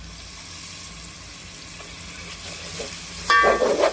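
Ginger-garlic paste frying in oil with coriander and mint for a Nellore-style chicken biryani, a close, steady sizzle with light stirring, swelling into a louder burst of crackling and spatter near the end, no one speaking.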